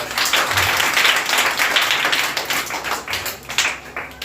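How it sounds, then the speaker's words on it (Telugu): A group of children clapping their hands together in a dense, continuous round of applause, loud and close, with scattered individual claps standing out throughout. "చప్పట్లు కొట్టిన ఒకసారి"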